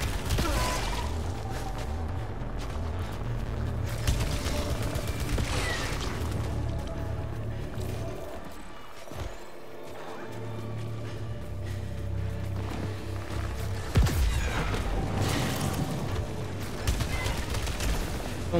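Alternate-fire weapon discharge in Returnal on PS5 during a fight with parasite enemies, a sustained burst of rapid sci-fi gunfire with heavy thuds and a brief lull midway, fairly quiet in the mix.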